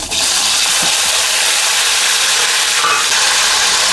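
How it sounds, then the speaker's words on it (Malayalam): Potatoes cook in hot oil with well-browned cumin seeds, producing a loud, steady sizzle right after they go in, with an occasional light knock from stirring and no voices. "അപ്പോൾ പൊട്ടറ്റോ ഞാൻ ഇതിലേക്ക് ചേർത്ത് കൊടുക്കുകയാണ്."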